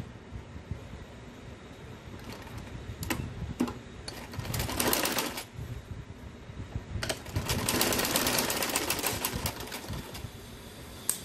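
A home sewing machine stitches a salwar in several uneven runs of fairly quiet mechanical whirring, with short pauses and small bursts in between.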